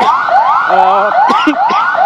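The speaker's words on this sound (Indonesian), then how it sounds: "Di belakang saya ini sejumlah ambulans hilir mudik" Ambulance sirens wail loud and close with fast repeating rising sweeps, and a vehicle horn blares briefly partway through, as ambulances pass back and forth at a chaotic street protest.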